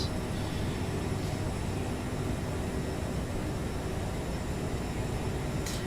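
An Aerosoft CRJ v2 regional airliner starts its takeoff roll in Microsoft Flight Simulator 2024, a constant broadband jet engine roar holding at even loudness throughout.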